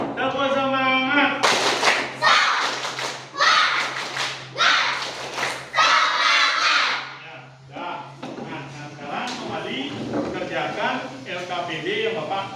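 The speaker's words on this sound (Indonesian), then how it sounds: "Tepuk semangat. Semangat. Kurang semangat, ya. Lebih keras." Schoolchildren in a primary classroom clap a rhythmic cheer chant in sharp, loud bursts, with a teacher's voice and children's voices calling between the patterns and talk continuing after the clapping fades.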